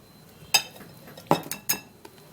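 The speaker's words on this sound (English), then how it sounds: "So I'll be putting about 2 tablespoons of the black seed" A metal spoon clinks against a container while scooping black seed, three sharp distinct clinks with a faint tap after, close and clear in a quiet room.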